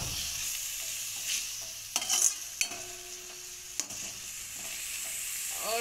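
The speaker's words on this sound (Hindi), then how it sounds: "अब हम इसे अच्छे से भून लेंगे।" Food is stir-fried in a pan with a soft background sizzle, broken by several sharp spoon-on-pan knocks and scrapes and a brief louder crackle.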